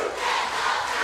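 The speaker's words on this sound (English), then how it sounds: "We got a tremendous crowd here at center stage" A large arena crowd at a pro wrestling show roars and cheers continuously, a dense, loud wash of voices with no single voice standing out.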